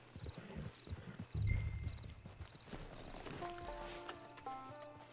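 A horse's hooves clip-clop at a walking pace in a video game, a steady rhythm under faint background game sounds and soft tones, quiet and fairly close, with no talking.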